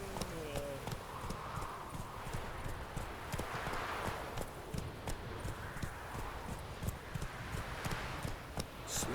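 Roach, a horse in The Witcher 3, walks with steady clip-clop hooves that fall in a regular, fairly close rhythm over rustling ambience, under game music and a voice.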